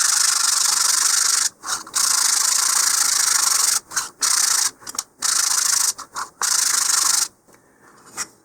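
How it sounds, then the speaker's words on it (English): Loud, steady sandpaper rubbing across a wooden model rocket part to remove scorch marks, in long continuous strokes with brief pauses between passes, then quieter faint scraping at the end. "just sand this to remove the scorch marks"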